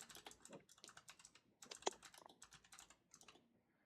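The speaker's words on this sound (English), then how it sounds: "I hear frantic typing in the background." Rapid, frantic typing on a computer keyboard in a quiet room, bursts of close clicking keystrokes in quick irregular runs with short pauses, one sharper clack standing out midway, then trailing off.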